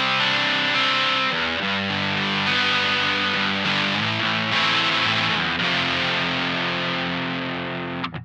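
An electric guitar played through a Dr Acid Nasa OverDrive pedal set to medium-to-heavy gain rings out with thick, saturated chords, sustained and loud throughout with a few chord changes, and no voices.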